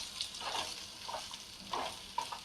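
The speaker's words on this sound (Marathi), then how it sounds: "हे कापून घेतलेले सगळे आपण दोडके याच्यामध्ये टाकून घेऊ गॅसचा जो पावर आहे तो एकदम वरतीच ठेवायचा आणि आपण याला मिक्स करून घेऊ व्यवस्थित" Chopped sponge gourd fries in oil over high heat, a faint steady sizzle broken by several soft, irregular stirring scrapes, close by and with no talking.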